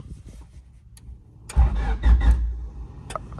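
A small hatchback's engine cranks and fails, then catches and fires up with a loud mid-pitched roar and brief revving, heard up close with no talking.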